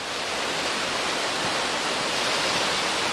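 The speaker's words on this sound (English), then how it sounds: "look at the river is really raging right here" Raging Des Moines River rushing beneath a swing suspension bridge, a loud, unbroken roar of turbulent water with a broad hiss and no pauses.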